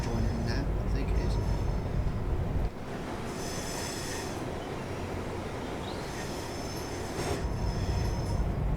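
Class 380 electric multiple unit in Train Sim World 4 on the remastered Cathcart Circle line near Pollokshields East, a steady rumble of wheels on rail with faint squeals, heavier at first then a softer interior run.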